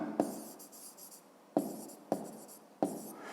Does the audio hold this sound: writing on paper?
yes